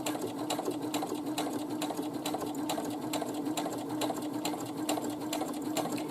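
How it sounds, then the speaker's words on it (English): Sewing machine stitching the side seam of a drawstring bag, a steady rapid rhythmic clatter close up and continuous, with no voices. "again we want to stitch near that edge on the way up"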